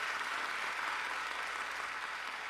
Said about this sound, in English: clapping so violently